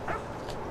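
A dog in the video game What Remains of Edith Finch gives a short yip or bark, close and moderately loud, over a steady background hum.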